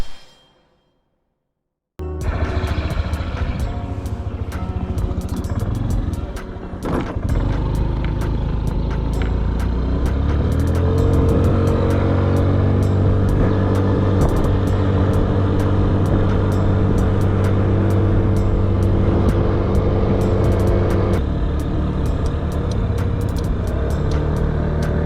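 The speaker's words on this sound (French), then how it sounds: "vous allez voir le magnifique Honda Zoomer" Honda Zoomer scooter heard from a rider's chest-mounted camera: after a brief silence its small engine starts and runs, then climbs in pitch as it pulls away and holds a steady, loud drone with wind noise.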